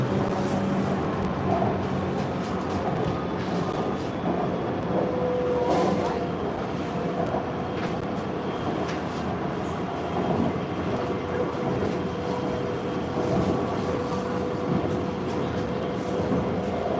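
A Bangkok metro train runs with a steady, loud rumble and hum throughout, carrying an even drone from start to finish with faint voices in the carriage.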